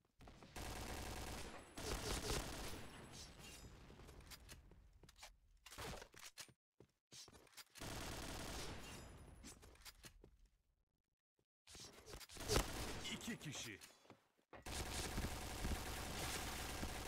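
Bursts of AUG rifle fire in the online shooter Point Blank, loud rapid volleys broken by short silences, with fire resuming after each pause.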